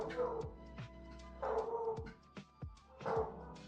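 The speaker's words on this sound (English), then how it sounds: "Oh my god, the dogs." Dogs bark in short, sharp bursts indoors, several distinct barks spaced out with brief pauses, loud and close, joined by a higher yip or whimper between them.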